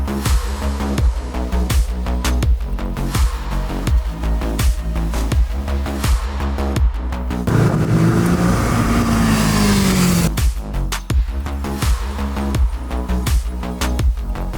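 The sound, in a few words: Kawasaki 650 motorcycles, 649cc parallel-twin engines running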